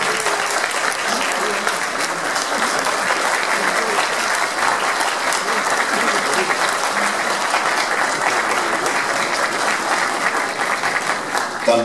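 At a university graduation ceremony, a large audience applauds continuously for about twelve seconds, a loud, dense and steady roar of clapping that never breaks or fades, with a few crowd sounds mixed in.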